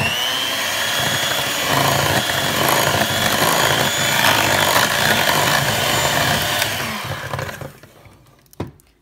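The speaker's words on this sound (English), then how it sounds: "now I add my flour and blend thoroughly" A blender whirs loudly and steadily as it mixes crepe batter with flour, running for about seven seconds before winding down, with a brief knock near the end.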